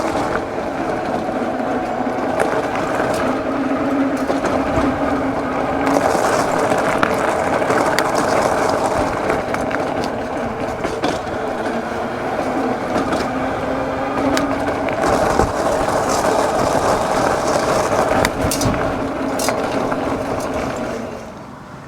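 An Evercross EK6 electric bike riding over gravel, a continuous loud crunching rumble of tires with rattling and clattering from the frame throughout.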